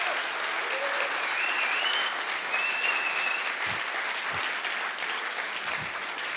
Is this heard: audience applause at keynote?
yes